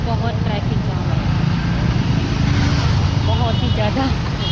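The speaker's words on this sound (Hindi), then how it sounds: "आज बहुत ट्रैफिक जाम है" Road traffic in a dusty Indian traffic jam rumbles steadily with idling and passing engines and occasional horn-like tones, while someone talks over it close to the microphone.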